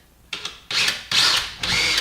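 A cordless power drill boring a pilot hole for a screw mounting a garage wall cabinet, three close, loud whirring bursts, each starting and stopping in quick succession.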